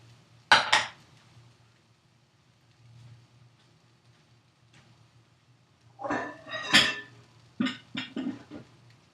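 Food tipped from a hot pan into a large bowl for a summer soycatash, with a sharp scrape and clatter at the start and a louder burst of scraping and clinking of pan and utensil against the bowl near the end.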